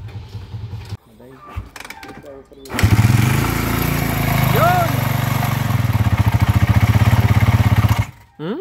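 A motorcycle engine runs after an overhaul, starting up and settling into a loud, steady, close putter with rhythmic pulsing, while people talk over it before and during.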